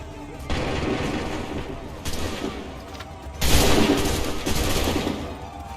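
Musket volley in the video game Assassin's Creed III, rolling bursts of massed gunfire crackling and booming in several waves, loud and near, layered with battle noise.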